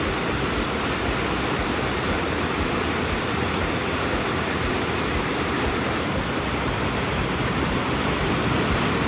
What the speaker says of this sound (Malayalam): നമ്മൾ വെള്ളച്ചാട്ടത്തിൽ എത്തിയിട്ടുണ്ട്.